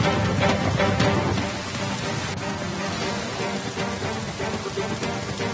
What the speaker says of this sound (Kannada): ಅಸ್ಸಾಂನಲ್ಲೂ ಮಳೆ ಅಬ್ಬರ